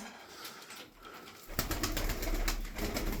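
Play pigeons, including a smoky-coloured female, coo softly against a busy background of rustling and ambient noise.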